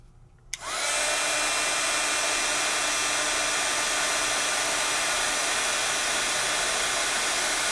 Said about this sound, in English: I'm going to heat emboss